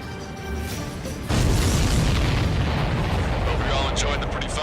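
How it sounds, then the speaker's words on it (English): A heavy explosion from an aerial combat battle in Ace Combat 7 erupts suddenly into a sustained loud roaring rumble after a quieter opening, with radio chatter in the background. "Everybody, keep a safe distance to avoid getting caught in the explosion."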